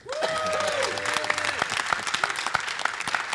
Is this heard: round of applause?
yes